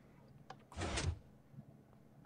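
A door in Minecraft swings open with a single short, muffled creak-like burst lasting under half a second against a quiet background.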